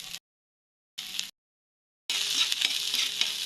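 Garlic and onion sautéing in hot cooking oil, a bright steady sizzle that starts after two brief bursts separated by silence, loud and close with faint stirring.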